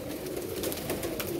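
Teddy pigeons coo steadily at close range, a soft continuous murmur from several birds with no talk over it.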